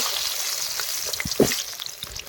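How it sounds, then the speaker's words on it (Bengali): Potatoes frying in hot mustard oil in a wok give a steady, moderately loud sizzle with a few small pops and crackles scattered through it. "তেল গরম হয়ে গেছে, এখন আমরা আলুগুলোকে ভেজে নেব।"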